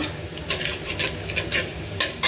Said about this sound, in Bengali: ওটা বাগার দিব এখানে যে শুকনা মরিচ আর রসুনটা দিয়ে দিছি